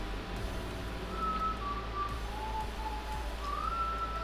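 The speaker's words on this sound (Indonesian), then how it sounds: "Ini kayak whistle, kayak siulan gitu cuy" A thin, wavering whistled tune rises and falls in a few drawn-out phrases over a steady low rumble.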